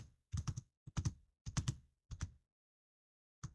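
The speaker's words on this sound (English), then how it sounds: "So we will type expenses in here." Short bursts of computer keyboard typing while entering a word into an Excel spreadsheet, a few clustered keystrokes close and clear, then a pause and one final key press.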